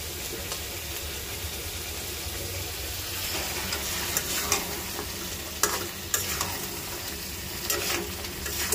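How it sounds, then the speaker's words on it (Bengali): Fish braising and frying in a pan, giving off a loud continuous sizzle with scattered stirring scrapes and clinks, and no voices. "কষানো হতেছে আমার মাছটা"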